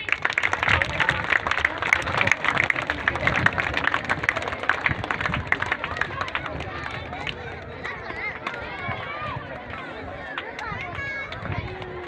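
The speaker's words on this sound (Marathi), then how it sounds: "टाळ्या अजिबात बंद करायच्या नाहीत।" Audience at a school farewell ceremony applauds in a dense, sustained burst of clapping that stays loud and busy before thinning slightly toward the end, with crowd murmur mixed in.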